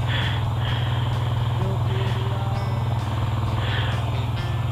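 A Yamaha Virago 250 motorcycle idles steadily and close by, its low engine drone running continuously throughout with a few faint higher tones above it.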